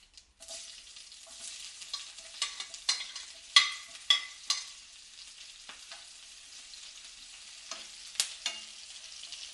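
Chopped onion fries in hot oil with mustard seeds for a Kerala-style beef brain fry, a soft, steady sizzle broken by intermittent spatula stirs and scrapes, fairly quiet and close.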